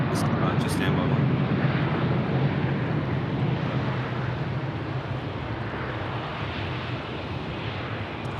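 Jetstar airliner arriving at Sydney Airport, a broad, steady jet roar that holds loud throughout and eases slightly toward the end, with a voice speaking over it.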